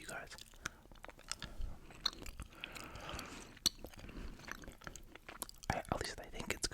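Chew gum is worked close to the mic, giving soft, wet, slightly crunchy bites and squishes at a low level, with faint whispering in the quiet background.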